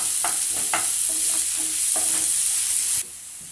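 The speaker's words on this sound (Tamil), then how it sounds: "இப்போது கட் பண்ணி வச்சுருக்க பெரிய வெங்காயம் போட்டுக்கோங்க. நல்லா வதக்குங்க." Chopped large onions sauté in a hot pan, frying with a continuous loud sizzle while a spoon scrapes and stirs in a few intermittent strokes.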